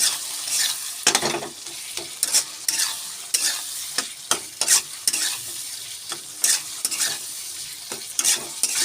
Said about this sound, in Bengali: এবারে এই মাছটা দিয়ে কষাবো, আরও শুটকি মাছটা দিয়ে